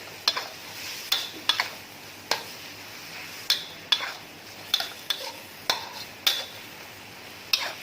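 Sliced lemongrass and pork belly stir-fried in a pan, with a spatula scraping and clinking against the metal in regular strokes roughly every half second over a faint background sizzle, close and fairly quiet.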